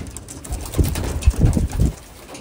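Low, soft coos from a pigeon hen, a few throaty pulses in a short run heard close by.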